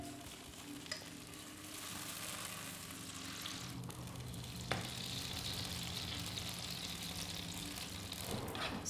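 A bean paste fries in a pan over raised heat, making a continuous, moderately quiet sizzle and crackle with a few soft stirring knocks, close by with no talking.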